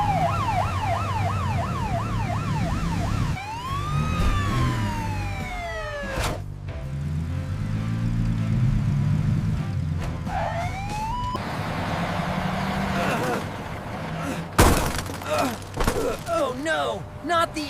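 A LEGO ambulance siren in a city rescue animation, rising and falling wails and sweeping tones loud and close, layered over background music and effects, ending in crash-like bangs.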